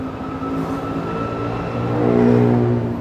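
Close, steady engine hum from an Italjet Dragster scooter turning around in a home parking area, a sustained tonal drone that swells slightly partway through the slow maneuver.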